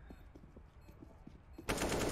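Counter-Strike: Global Offensive gunfire during a professional IEM Dallas 2022 match: faint, soft in-game clicks and steps, then a sudden loud, dense burst of automatic fire that continues to the end.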